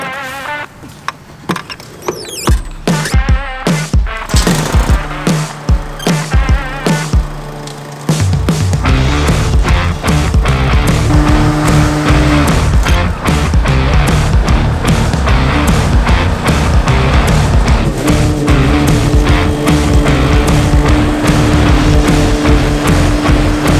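A lawn mower with its deck dropped as low as it goes cuts through dead grass, a loud, steady engine drone with rattling debris that runs continuously and grows fuller after a rougher start, with no talking.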